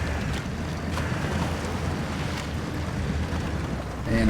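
A vehicle pushes steadily through water in Expeditions, giving a continuous churning, sloshing wash with a faint low hum, even in level and with no talking.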